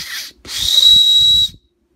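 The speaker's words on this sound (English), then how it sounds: "Let's see what the whistle sounds like." A small whistle on a survival kit bracelet is blown twice at close range: a brief breathy toot, then a longer shrill sustained tone lasting about a second before stopping cleanly.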